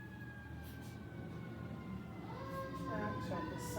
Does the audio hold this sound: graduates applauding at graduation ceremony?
no